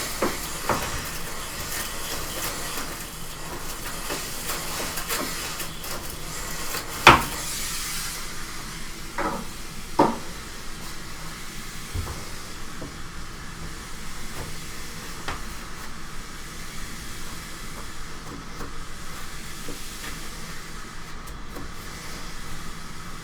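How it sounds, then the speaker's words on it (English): A steam cleaner hisses continuously into a top-load LG washing machine, a steady breathy spray with a few knocks and clunks scattered through it. "So with the steam cleaner, I'm going to hit it real good."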